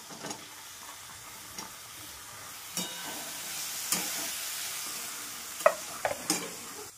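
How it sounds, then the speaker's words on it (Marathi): Bottle gourd with turmeric and garam masala fries softly in a pan, a faint, low hiss with scattered stirring clicks and taps near the end. "भोपळा आणि मसाले व्यवस्थित फ्राय झाल्यानंतर भोपळा आणि डाळ टाकणार"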